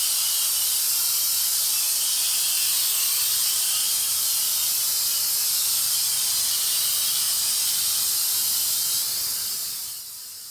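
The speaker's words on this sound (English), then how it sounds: "I'm going to respray the top to make sure it's absolutely bulletproof" Close, loud hiss from a spray can laying urethane finish over a table top built from a front door, one long continuous spray that fades out at the very end.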